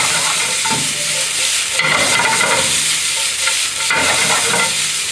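Pork and vegetables stir-fried in gochujang sauce with a little soy sauce, loud steady sizzling and frying with repeated scraping stirs of the pan at a close distance, no talking.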